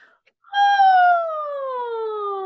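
During a qi gong voice warm-up lesson, a singer performs a siren exercise, a single close, clear vocal glide that starts high and slides smoothly downward, imitating a siren.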